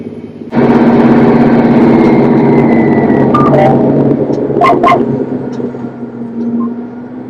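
A tractor engine runs steadily at close range, a loud continuous low rumble with a steady hum, broken by a few brief higher-pitched clanks and squeaks partway through.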